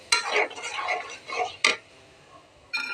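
Malabar spinach stems and potato being stir-fried in a pan: three short, close scraping strokes of a spatula separated by quiet pauses.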